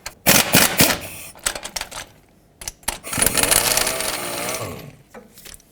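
An 18mm socket works a center bolt out of a 2008-2010 Ford F-250 during a leveling kit install, with loud, close ratchet clicks and metal knocks followed by a longer grinding run of turning, with no talk.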